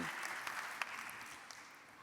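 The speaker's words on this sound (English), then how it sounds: "Please give him a round of applause as he makes his way." Conference audience clapping at a green industrialization solutions talk, a soft, fairly distant patter of many hands with a few sharper claps standing out, fading slightly toward the end.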